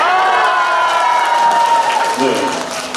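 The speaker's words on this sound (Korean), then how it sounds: "여러분 소리 한번 질러볼까요?" Crowd at a Buddhist temple year-end thanksgiving event shouting and cheering on cue, a loud sustained roar with clapping mixed in that tapers off toward the end.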